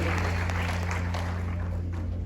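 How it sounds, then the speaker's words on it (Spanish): A congregation applauds during a church service, a dense, even wash of clapping under a steady low hum, lasting a couple of seconds. "Dios se merece un aplauso por eso."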